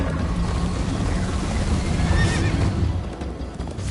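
A horse in the Minecraft Story Mode video game whinnies and gallops, its neigh rising over a steady clip-clop of hooves and a busy background of game music and ambience.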